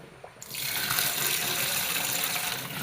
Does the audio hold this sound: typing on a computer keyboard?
no